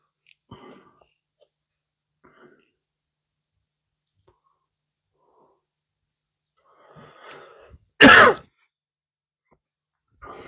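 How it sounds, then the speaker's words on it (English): One sharp, loud cough bursts out near the end from someone recovering from flu, after soft breathy throat noises and a few quiet clicks in an otherwise silent room. "Excuse the coughing"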